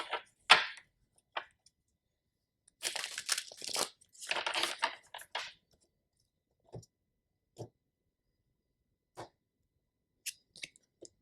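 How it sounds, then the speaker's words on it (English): Tarot cards are flipped out and handled in short close bursts of papery shuffling and slapping, then a few isolated soft taps separated by near-silent gaps. "So, I'm gonna flip out a few cards first."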